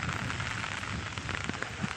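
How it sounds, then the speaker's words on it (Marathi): Continuous rain falling on surfaces during days of heavy monsoon rain, a steady even hiss of drops at moderate level with no talking. "पाऊस चालू आहे."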